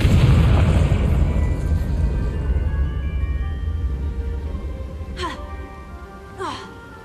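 In the Hogwarts Legacy video game, a Confringo spell bursts with a loud boom that opens the stretch and rolls away into a long fading rumble, with a couple of brief whooshing magical swirls toward the end.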